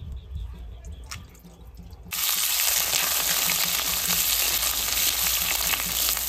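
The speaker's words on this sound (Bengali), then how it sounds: "তো প্রথমে আলুটা ভেজে নেবো।" Potatoes drop into hot oil in a wok, where quiet kitchen rumble and a faint tap give way at about two seconds to a sudden, loud, sustained sizzle and bubbling close by.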